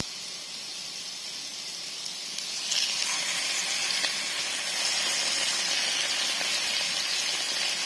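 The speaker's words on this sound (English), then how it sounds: "we're just going to let that pan fry for maybe 10 to 15 minutes" About five salmon pieces pan fry, producing a soft steady sizzle and hiss that swells slightly louder partway through, with no talking.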